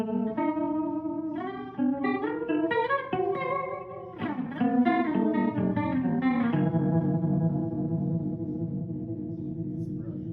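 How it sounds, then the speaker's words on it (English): Electric guitar runs through a Dr. Scientist BitQuest multi-effect pedal on its ring modulator setting with reverb, giving metallic, bell-like clangorous notes in a melodic line that rings out into a sustained spacious chord, with no talking. "ring mod has a little bit of a reverb behind it. It's got some space there."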